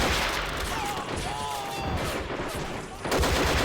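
Dense gunfire in the video game Army Men of War Legends during a bunker bridge battle, a loud continuous fusillade of shots and whizzing rounds with brief tonal streaks, swelling again near the end.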